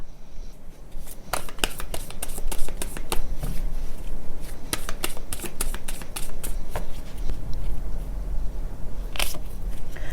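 Oracle cards being shuffled for a card reading, a steady run of crisp riffling and flicking bursts lasting throughout, close and fairly loud with no talking.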